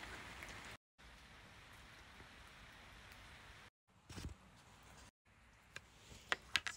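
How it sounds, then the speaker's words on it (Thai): Heavy rain falls steadily as a dense, continuous hiss of drops on surfaces, interrupted by a few brief silent gaps and a handful of sharper nearby drip taps toward the end. "ที่จะได้นั่งสมาธิท่ามกลางเสียงฝนตก"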